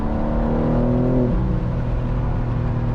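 A 2025 BMW M4 Competition Convertible accelerating, its engine droning loud and close with a climbing pitch, then a gear change drops the tone as the pull continues.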